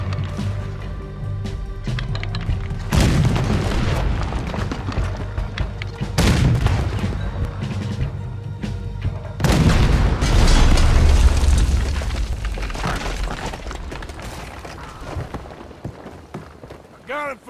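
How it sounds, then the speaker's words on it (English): Ship-mounted cannon fire in the Red Dead Redemption 2 video game: several heavy booms in sequence, each loud blast followed by a long rumbling decay, with game dialogue in between. "There's another cannon up ahead on our left."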